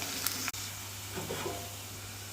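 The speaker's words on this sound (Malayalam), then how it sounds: "മസാലപ്പൊടികൾ ചേർത്ത് കൊടുക്കാം നന്നായി ഇളക്കി ഒന്നുകൂടെ വഴറ്റുക" Garlic, ginger, chillies and spice powders for a fish curry sautéing in a pan, a soft steady hiss of frying with one sharp click and a brief stirring scrape, faint and close.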